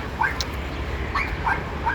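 A dog at a dog breeder's place in Thailand gives short, high yips and whimpers in a quick series of four, fairly close, over steady background noise.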